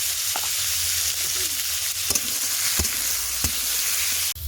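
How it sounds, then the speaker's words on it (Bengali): Pumpkin pieces frying in a wok with salt and turmeric, giving a steady, close sizzle throughout, with a few stirring scrapes and clinks breaking through near the end. "এই যে কুমড়োটা যে ভাজার জন্য কেটে নিয়েছিলাম কড়াইতে বসিয়ে দিয়েছিলাম এখন কিন্তু কুমড়োটা পুরোপুরি ভাজাও হয়ে গেছে"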